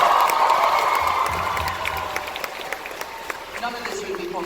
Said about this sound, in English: Let's have a round of applause for Kevin Feige.